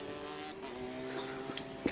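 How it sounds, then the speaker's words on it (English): A rotary turbo drift car's engine at Fuji Speedway during a Formula Drift Japan event, heard as a faint, steady droning tone with a couple of brief sharper bursts near the end. "combine the rotary sound and the turbo sound"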